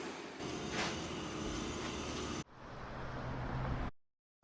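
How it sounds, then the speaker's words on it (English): An old train rolls along with a loud, continuous rattling rumble that cuts off abruptly, resumes briefly with a steady roar, then drops into silence. "I hope this old train breaks down."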